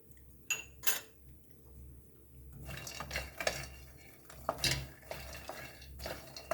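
Raisins tossed into a pan for toasting while making baked sweet potato and makhana kheer, with clattering utensil knocks, a couple of sharp metallic clinks and steady stirring scrapes over a low background hum.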